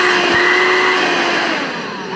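A Bosch BCHF220GB 20V cordless vacuum in handheld mode runs on its single setting, giving a steady, close, loud motor whine with a high tonal hum that eases slightly toward the end.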